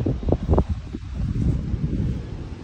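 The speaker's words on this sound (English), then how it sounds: "Very windy today." Strong gusts buffet the microphone outdoors in a garden, producing a rough, low rumbling roar that swells and fades, with a few louder thumps at the start.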